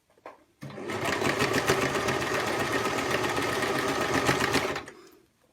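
A sewing machine stitches plastic binding under a presser foot in one steady, loud run of rapid needle strokes, starting after a brief tap and winding down near the end.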